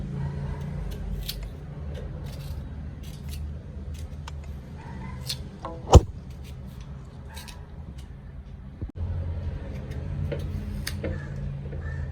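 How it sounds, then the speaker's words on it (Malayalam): Amla, Indian gooseberry, is cut with a knife, giving faint, sparse clicks and taps against a quiet background, with one sharp louder knock partway through. "ഇനി നെല്ലിക്ക കട്ട് ചെയ്തിടാം"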